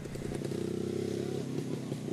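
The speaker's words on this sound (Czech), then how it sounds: "začalo pod Vitřkovickou hrází rozléhat burácení motorů" Roaring engines of Jawa and ČZ motorcycles at a motorbike meet, a continuous rough, pulsing two-stroke drone at close range with slight revving, a voice faintly present beneath.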